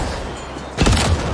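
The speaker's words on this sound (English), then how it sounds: "This will probably explode, right? Red barrel." A red barrel explodes in a video game, a sudden loud boom that bursts out of a low hiss and rumbles briefly before fading.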